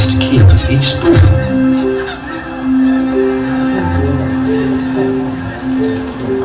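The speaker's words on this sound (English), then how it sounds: "Thousands of migrating snow geese return to the Stikine each spring." Snow geese migrating through the Stikine delta in spring give repeated honking calls, several overlapping bursts near the start and then a steady chorus of flock calls, fairly loud and without talk.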